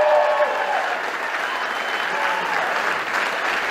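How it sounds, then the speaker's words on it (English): A crowd applauds loudly and continuously, with dense, even clapping filling the space from start to finish. "I don't know why they're clapping."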